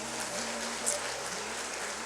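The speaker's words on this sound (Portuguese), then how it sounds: "Você pode aplaudir Jesus bem forte." A church congregation applauds during a worship service, a steady wash of clapping held at an even level throughout, with low background noise underneath.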